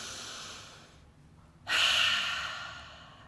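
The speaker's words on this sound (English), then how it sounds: "Open mouth exhale" A single long open-mouth exhale during a guided breathing exercise, a breathy, airy rush that starts abruptly after a pause and slowly fades, close and soft.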